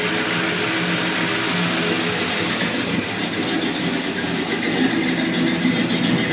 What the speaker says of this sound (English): It's been a while since I had this thing started up. Fires right up.